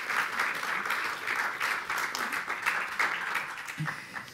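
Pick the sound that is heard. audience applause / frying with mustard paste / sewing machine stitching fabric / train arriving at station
audience applause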